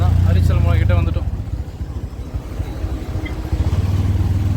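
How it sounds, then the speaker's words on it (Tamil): Road traffic near Arichal Munai in Rameshwaram: a loud, close engine hum of cars and motorcycles that dips for a few seconds and then swells again as another vehicle nears, with voices talking over it at the start. "சாட்டர்டேவே இவ்வளோ டிராஃபிக் இருக்குது."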